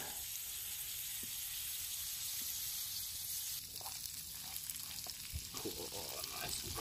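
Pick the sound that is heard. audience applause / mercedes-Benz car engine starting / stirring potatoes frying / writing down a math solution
stirring potatoes frying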